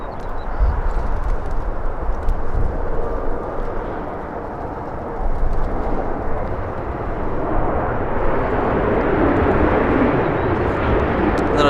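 A SkyWest airliner departing LAX, a loud, broad roar of jet engines close by, with wind buffeting and rumble rising steadily across the clip.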